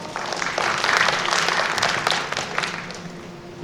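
An audience claps after a student's natural-science research presentation at an academy event: steady, dense applause from a sizable crowd, fairly loud and close, tapering slightly toward the end.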